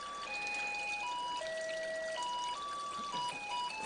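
A Jupiter Neptune/Mavello JP101 water ionizer plays a chiming electronic tune of steady tones over a soft continuous trickle of acidic water flowing from its drinking spout.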